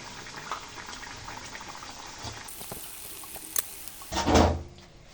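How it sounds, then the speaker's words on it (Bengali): A pot of bhetki fish curry comes to a boil, giving a soft, steady bubbling hiss with faint clinks, followed by a louder, brief surge of bubbling near the end, close up with no voices. "তরকারিটি উতলাতে শুরু করেছে"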